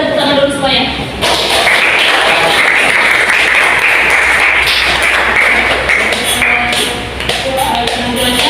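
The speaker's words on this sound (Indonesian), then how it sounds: "Udah tepuk tangan dulu semuanya." A group applauds after a psychodrama performance in a group counselling session on managing emotions, with loud, sustained clapping that starts after a short lead-in and carries on, slightly uneven, with some voices mixed in.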